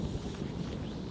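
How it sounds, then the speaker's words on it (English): Strong wind blows outdoors beside a fly fisherman, a steady low rushing buffet across the microphone that continues throughout. "Quite a strong wind."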